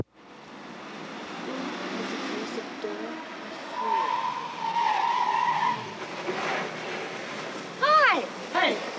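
Car skidding with squealing tires as it pulls up, a mid-level rising screech followed by sharp tire chirps near the end, with people talking alongside.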